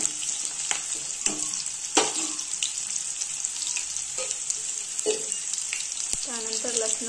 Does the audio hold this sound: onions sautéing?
yes